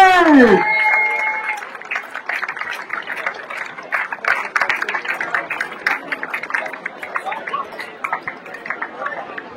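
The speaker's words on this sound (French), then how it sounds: "Tonnerre d'applaudissements pour Louis-Marie Touzé." Spectators at the Ploërmel lake trail race applaud a winning runner, steady clapping with some crowd chatter and cheering, moderately loud and sustained after a brief opening tone.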